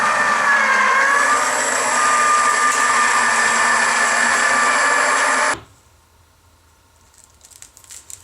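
An eBosser embossing machine draws an acrylic plate sandwich through its rollers with a steady, loud motorized whine and hum for several seconds, then stops abruptly, leaving near silence with a few faint clicks.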